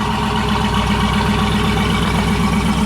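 A Dodge Durango RT with a straight-piped exhaust that still keeps its rear resonators sits at low idle, giving a steady, loud, close engine drone with an even low pulse throughout.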